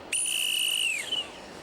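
A single sharp, shrill referee whistle blast at a football match, lasting about a second, clear and close, with a brief trailing chirp.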